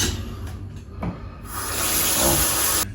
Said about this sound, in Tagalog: Tapos, lagyan ka agad natin ng tubig siya